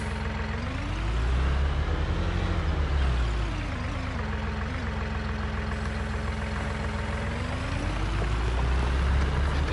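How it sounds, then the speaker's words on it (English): A small Massey Ferguson tractor engine in Farming Simulator 19 drones steadily at close range, its low rumble swelling and easing slightly as the load shifts, with no talk over it. "So his little Massey Ferguson is a good little tractor."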